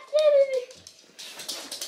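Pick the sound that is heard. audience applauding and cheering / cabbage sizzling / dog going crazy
dog going crazy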